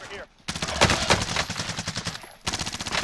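Gunfire in Call of Duty Cold War Warzone, rapid bursts of submachine-gun fire in two close, loud volleys separated by a brief pause.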